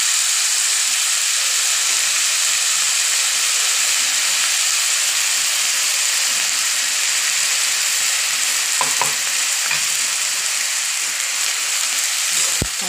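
Fresh green chickpea leaves drop into a hot pan of crackling chilies and oil, setting off a loud, steady, close-up sizzle that hisses evenly throughout with a few faint clinks near the end.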